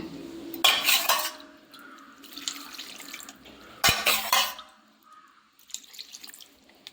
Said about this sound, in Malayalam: കുറച്ചും കൂടെ വെള്ളം ഒഴിച്ചെടുക്കണം കേട്ടോ